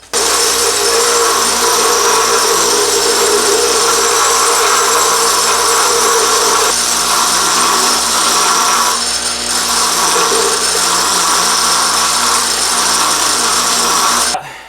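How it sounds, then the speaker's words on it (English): A bench grinder's fine stone wheel is dressed with a dressing tool, a loud, continuous abrasive grinding rasp over the motor's steady whine, with brief changes in pressure, close up and without talk. "I'm going to go ahead and finish dressing off this wheel"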